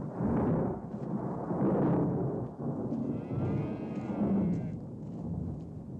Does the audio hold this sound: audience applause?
no